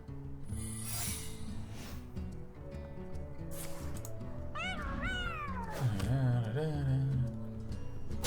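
A cat meows several times in drawn-out, rising and falling cries over a busy background of game music and sound effects.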